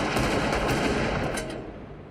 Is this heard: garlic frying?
no